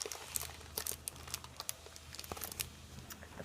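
A sticky plastic bag being worked open by hand, giving close, quiet, irregular crinkling and crackling with sharp little snaps scattered throughout.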